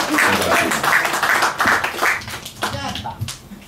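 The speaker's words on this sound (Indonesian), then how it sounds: "kita beri tepuk tangan dan beri semangat buat Windy" Audience at a stage show applauding a performer, a burst of many hands clapping that fades after a couple of seconds into murmuring voices and scattered noise.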